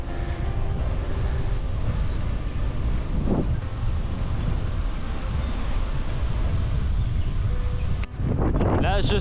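Steady, loud headwind buffeting the microphone while cycling a straight stretch of the ViaRhôna near Saint-Gilles, a continuous low roar throughout with a brief dip near the end.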